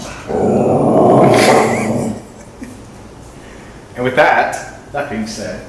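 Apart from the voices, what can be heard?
dog growling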